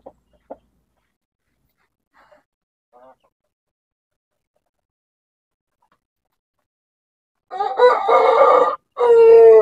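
A shamo rooster crows loudly in a chicken coop, two close harsh calls near the end after a stretch of near silence with a few faint clucks.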